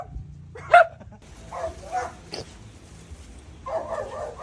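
A dog gives a few short, faint barks and yips with soft whimpering in between, set against a quiet background.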